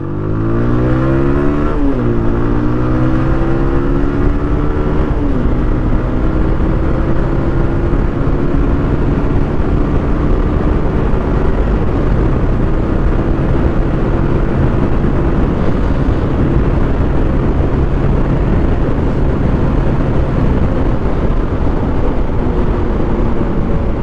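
A TVS Apache RTR 160 motorcycle engine rises in pitch as the bike accelerates on a ride, loud and close. It continues as a steady, sustained road drone for about twenty seconds.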